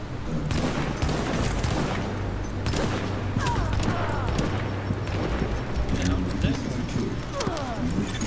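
Sniper gunfire in The Division video game, with sharp shots cracking through dense, busy combat sound while players talk throughout.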